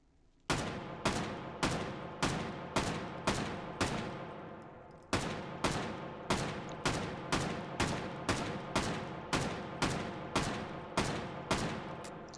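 An FAL rifle in 7.62 NATO fires a long string of loud, sharp, evenly spaced shots, alone, with one brief pause partway through.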